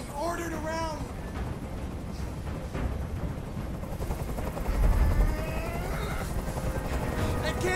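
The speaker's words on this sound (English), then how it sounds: "I can't stand that noise anymore. Tell that helicopter to get out of here." Helicopter noise in the Detroit: Become Human video game during a hostage scene: a steady rotor drone and rumble running throughout, rising to a louder thump near the middle, with voices and music-like tones over it.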